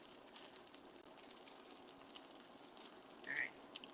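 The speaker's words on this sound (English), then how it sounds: "Sizzling. You can never have too much bacon." Bacon frying in a pan gives a steady, fairly quiet sizzle with scattered crackles and pops, carrying on without a break.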